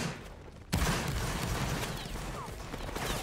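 A musket volley in the Roblox Napoleonic Wars game, a loud crashing blast that gives way to a long, dense wash of gunfire and rumble, close and sustained.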